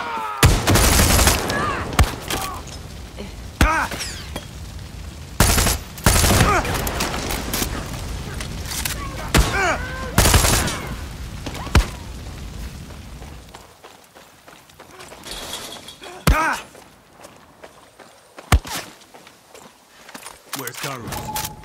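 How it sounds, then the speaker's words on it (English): Loud bursts of gunfire and a grenade explosion in the Far Cry 6 shooter, sharp repeated shots and heavy booms scattered across the stretch with quieter gaps, running footsteps and occasional voices in between. "Grenade!"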